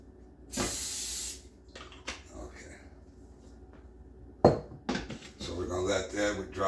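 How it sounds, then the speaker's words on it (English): A short burst of olive oil cooking spray hisses onto a pan for about half a second, then utensils clatter against the pan while a person talks. "I'll spray it. I like to spray it a little bit too."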